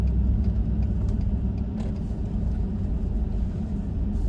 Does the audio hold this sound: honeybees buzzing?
no